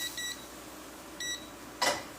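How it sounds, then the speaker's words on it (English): Two short electronic beeps from a stove with no pot on it, spaced about a second apart, followed by a brief clatter; no talking. "This keeps beeping when there's no pot on it."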